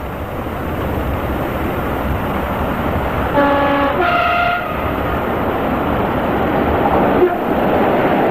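A Class 45 diesel locomotive hauls an empty MGR coal train through Harbury Cutting in spring 1982, a steady rolling rumble with a brief two-tone horn sounding midway.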